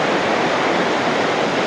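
The Aguas Calientes river rushing through the town near Machu Picchu, a loud, dense, continuous roar of flowing water with no breaks.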